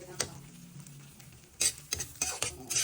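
Eggs stirred in a frying pan for scrambled eggs seasoned with pepper, with a few sharp scraping clicks and a brief sizzle, faint at first, then a cluster of quick stirring strokes toward the end.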